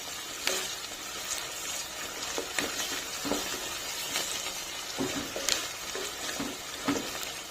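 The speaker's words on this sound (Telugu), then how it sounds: "చూసారా, అల్లం వెల్లుల్లి పేస్ట్ కూడా ఫ్రై అయిపోయిందండి" Ginger garlic paste frying in a pan for a beans masala curry: a steady, close sizzle broken by regular scraping stir strokes, with no talking.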